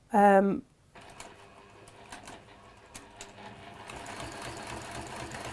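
A Brother NX7 sewing machine runs a decorative stitch at a long stitch length of about 3.4 to 3.6, giving a steady, close mechanical whir and rapid needle clatter after a brief vocal sound at the start.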